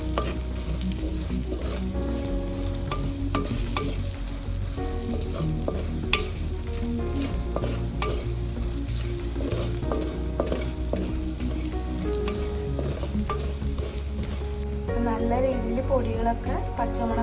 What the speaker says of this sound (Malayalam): ഇനി ഇത് നമുക്ക് നല്ല രീതിയിലൊന്ന് വഴറ്റി കൊടുക്കാം.